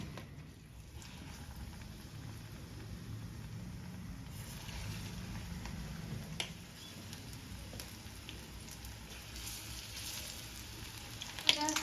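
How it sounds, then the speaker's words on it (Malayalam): Street-style evening tea snacks deep-frying in a batch of oil, a steady low bubbling sizzle that holds evenly throughout, moderately quiet with no talk. "ഇനി ബാക്കിയുള്ളത് കൊണ്ട് ഇങ്ങനെ ഫ്രൈ ചെയ്യട്ടെ"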